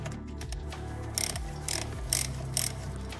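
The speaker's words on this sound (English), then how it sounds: "I've now carefully loosened the screws with the ratchet." A ratchet fitted with a Torx T40 bit loosening the oil pan screws on an automatic transmission, giving repeated close metallic clicking pawl bursts in short rhythmic strokes with no talking.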